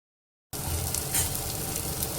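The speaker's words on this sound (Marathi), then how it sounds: "छान फ्राय होऊ देते मी वाटण." A ground spice paste of sesame and coconut frying in hot oil in a pan, a steady, close, dense sizzle that starts abruptly and carries on without pause, with no talking.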